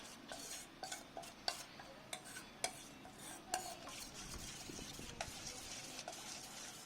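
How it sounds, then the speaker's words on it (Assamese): A spoon mixes spices and kasuri methi in a bowl for a chicken drumstick marinade, making a string of quiet scrapes and clinks at an irregular pace, close by and faint, with no talking. "দি এইখিনি মই ভালকৈ আকৌ মিক্স কৰি ল'ম"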